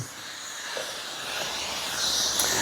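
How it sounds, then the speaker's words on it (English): Garment steamer hissing steadily as it is run down a suit from the bottom edge, a continuous close airy hiss that swells slightly toward the end, with no voices. "I'm pulling on the bottom edge and we steam it all the way down"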